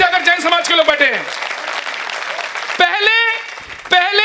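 At a Hindi poetry recital, an audience breaks into broad applause, a dense wash of clapping heard beneath and between a poet's raised, declaiming voice.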